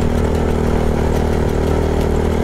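A motorcycle engine idles steadily and close by during a pause on a steep uphill climb on the Bacon–Manito road, giving an even low rumble with no talk over it.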